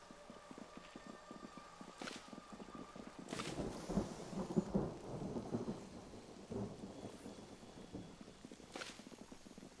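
Video game storm ambience: rain patters steadily while rolling thunder rumbles, swelling in the middle and fading, with a few hoof-like knocks mixed in.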